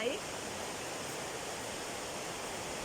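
A snowy forest stream flows steadily, its water making a continuous, fairly loud broadband rush with no clear pauses or breaks.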